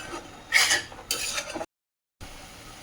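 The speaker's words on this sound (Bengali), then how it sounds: "এটাকে এখন শুকনো করে নেবো ভালো করে নাড়াচাড়া করে" Carrot halwa being stirred in a pan to dry it out. A spoon scrapes and rasps against the metal in two short, close strokes, then there is a brief silent gap and faint quiet stirring afterwards.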